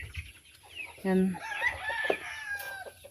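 Pet chickens in a yard crow and cluck, one strong crow standing out loud and near amid scattered softer clucks and faint background noise, with a brief spoken word.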